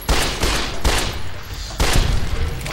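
10mm pistol fired from the hip in Fallout: New Vegas, a rapid string of loud, close shots, about five or six sharp blasts in quick succession with no talk over them.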